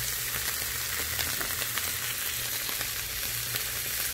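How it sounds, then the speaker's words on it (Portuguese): Onion and mushrooms sauté in olive oil in a pan, a steady close sizzle with fine crackling that holds evenly throughout, with no talking. "Eu vou refogar isso aqui, ó, bem refogadinho"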